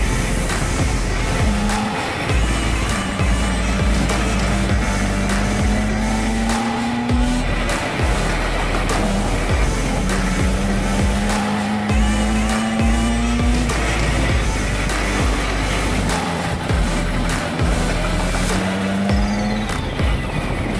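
Racing go-karts on a kart speedway track in Thailand, a loud, continuous engine drone whose pitch rises and falls repeatedly as karts accelerate and brake through corners, with steady road and wind rumble.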